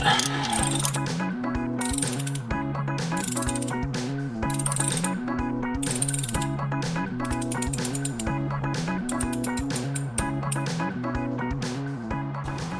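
A ratchet wrench loosening oil pan bolts on a leaking engine, rapid repeated clicking in bursts with brief pauses between strokes, close and continuous.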